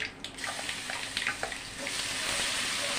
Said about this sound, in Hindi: राई में से आवाज़ आनी चाहिए तड़कने की